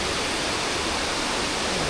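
The Riverston waterfall in the Dumbara valley roars as a dense, continuous rush of falling water, loud and close, with no other sounds breaking through.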